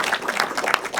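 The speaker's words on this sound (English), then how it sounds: "How about a round of applause for Elsa?" A panel discussion audience gives a short, dense burst of applause, with clapping that is close and fairly loud.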